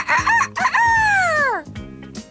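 A person imitates a rooster's crow up close, a drawn-out rising and falling cock-a-doodle-doo voiced loudly, followed by a short vocal sound.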